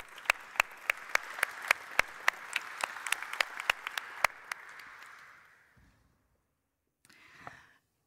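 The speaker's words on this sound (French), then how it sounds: "On peut les applaudir, je pense." A small audience at a university debate applauds with scattered, sharp claps that thin out and fade, followed by a brief quieter patch of clapping.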